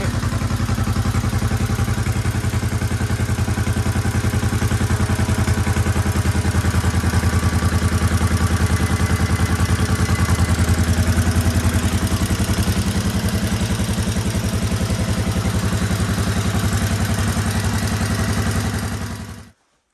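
A vintage motorcycle engine idles steadily and close, a loud, even rhythmic chug with mechanical clatter that holds without pause before cutting off at the end.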